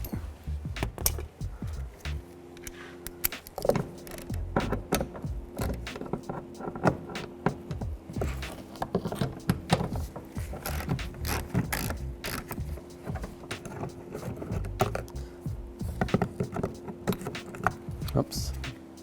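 Ratchet wrench clicking in quick bursts while removing a bolt from a car, close and fairly loud, with metallic jangles and brief pauses between runs of ticks.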